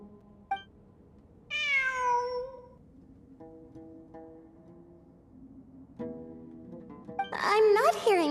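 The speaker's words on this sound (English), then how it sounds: "It really is a cat." A cat meows a few times, one long wavering drawn-out cry followed by shorter calls, with a louder, shriller yowl at the end, heard near and clear against a quiet background.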